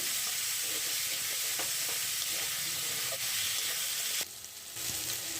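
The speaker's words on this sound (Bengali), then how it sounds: "টমেটোটা দিয়ে আবারও কিছুক্ষণ কষিয়ে নিতে হবে।" Tomatoes fry and sizzle in a pan while being stirred for an egg chicken tadka masala, a steady close hiss with scattered soft scraping clicks and a brief dip near the end.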